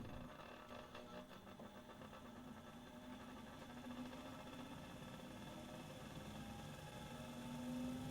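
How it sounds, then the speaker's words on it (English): An unbalanced laboratory centrifuge in a lab vibrates, giving off a steady, moderately loud mechanical hum and rattle with a low droning tone that holds evenly throughout, with no talk. "When the test tubes inside aren't evenly distributed, the centrifuge is unbalanced."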